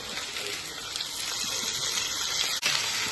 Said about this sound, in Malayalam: അപ്പം ഞാൻ വെള്ളം ഒഴിച്ച് കൊടുക്കുകയാണ്